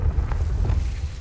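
A Confringo spell blast in Hogwarts Legacy, a single deep booming explosion with a rumbling low-end roar that holds across the short moment, loud and close.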